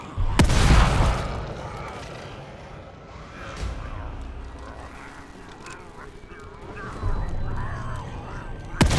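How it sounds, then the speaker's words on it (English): Shotgun blasts from the survival horror game The Evil Within 2, a loud booming shot near the start followed by another near the end, with a rumbling game soundscape in between. "Decided to go to a shotgun, see how that'll do."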